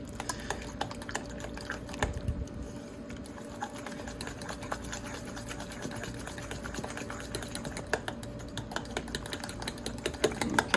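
Whisking goat cheese with two eggs and a quarter cup of milk in a bowl for a tomato tart filling, a steady busy clatter of utensil against bowl running throughout with fine rapid ticks.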